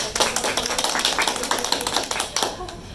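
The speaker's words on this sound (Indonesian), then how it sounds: "Tepuk tangan dulu" Sharp, fairly rapid applause from a small group in a student association chat session, the individual claps clear and close, tapering off near the end.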